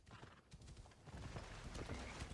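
Horse hooves clip-clop in a quick, steady rhythm in Assassin's Creed Odyssey, quiet and close, with a faint whinny-like sound mixed in.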